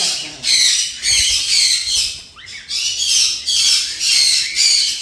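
Conure and cockatiel parrots at a bird farm squawk loudly and close by, in harsh repeated bursts roughly every half second over a few seconds, with no talk.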